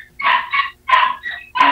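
A dog barks in a quick series of three or four sharp, loud yips close by, separated by brief gaps, with no talk over them.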